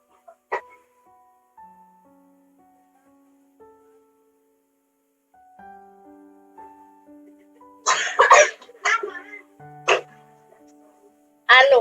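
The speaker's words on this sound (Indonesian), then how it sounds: "Batuk." Several sharp coughs burst out near the end after quieter tonal sounds and background murmur, loud and close, in a classroom setting.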